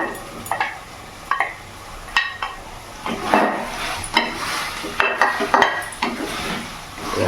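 Fried mushrooms for chilli mushroom being stirred in a pan over a medium flame, with repeated scraping and clattering strokes of a spoon against the metal and a soft sizzle underneath, close and steady, with no talking.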